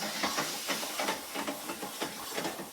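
Fennel sizzles in a hot pan, a steady close hiss with soft crackling pops throughout, no voices.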